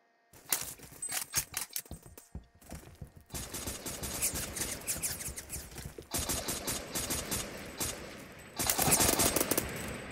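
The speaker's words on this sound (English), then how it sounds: "He shot at the wall." Rapid gunfire in a video game comes in several bursts of close, sharp automatic shots separated by short gaps. Metallic clinks and scrapes run between the bursts.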